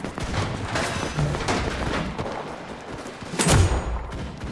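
Enemy gunfire in a video game, a dense, continuous crackle of shots with a louder burst near the end, loud and close.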